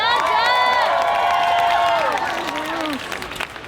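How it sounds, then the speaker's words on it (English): Applause and cheering from a youth climate strike crowd at an outdoor rally in San Francisco, loud at first and tapering off, with a bright whistle-like tone sliding through the middle and some voices mixed in. "Can you guys give Jeff a round of applause?"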